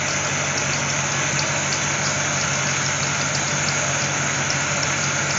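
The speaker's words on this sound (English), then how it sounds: "The compressor sounds terrible." A classic car's A/C compressor runs roughly alongside the idling engine, a dense, constant mechanical drone with a faint rhythmic ticking, loud and close throughout.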